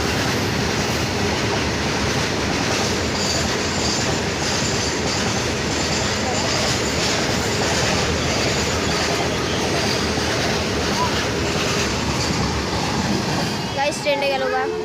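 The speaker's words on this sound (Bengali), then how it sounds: "গাইস ট্রেন যাচ্ছে।" A train rolls past at Badgara station, a steady loud rumble of wheels and carriages filling the whole stretch, with faint squeals near the end and voices talking underneath.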